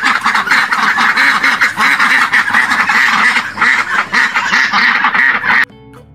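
Ducks quack continuously in a dense, loud, overlapping chorus for most of the stretch, then the calls cut off abruptly near the end, leaving a quiet tail.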